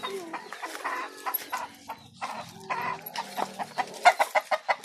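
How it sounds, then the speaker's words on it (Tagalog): Chickens cluck in a farm chicken coop, a close, busy mix of clucks and squawks from several birds, with a run of rhythmic calls near the end. "manok naman dito, manukan dito."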